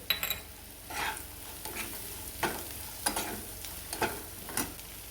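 Leftover bhakri, fried and crumbled, stirred in a pan with salt and sugar: a few separate scraping strokes about a second apart over a faint background sizzle, near and with no voices.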